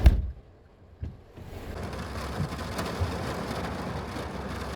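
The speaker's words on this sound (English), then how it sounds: "Because it's still raining," Steady rain falling during a thunderstorm on a road trip, a continuous soft hiss of drops with a couple of low thumps near the start, fairly quiet throughout.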